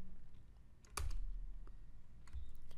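Keystrokes on a computer keyboard while entering a Docker command in PowerShell, a few quick light clicks and one firmer tap, close and fairly quiet with no talk.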